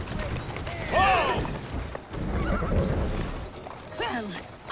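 A horse in Assassin's Creed Syndicate whinnies several times in high, wavering neighs, with hoof clatter and rustling underneath, fairly close.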